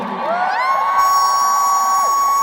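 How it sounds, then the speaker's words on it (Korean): An audience at a musical-themed fan meeting cheers and whoops, with high, sustained shrill tones ringing over a continuous crowd din. "박수 주시죠."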